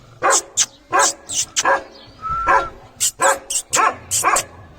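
A female dog, guarding her puppies, barks repeatedly in sharp, loud bursts, with a brief whimpering whine in the middle.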